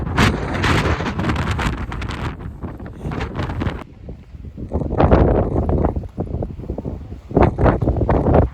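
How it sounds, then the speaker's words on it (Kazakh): Strong gusts of wind on a hill near Edinburgh buffet the microphone in loud, roaring bursts, easing briefly mid-way before surging again, with no other sounds audible. "Эдинбургтың ерекшелігі онда өте желді екен, және сен биіктікке көтерілген сайын ол желдің күші арта түседі"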